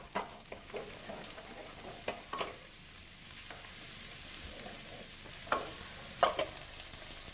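Sliced mushrooms stirred in a hot pan, a soft steady sizzle with scattered scraping clicks and taps from the spoon, a few sharper knocks standing out near the end.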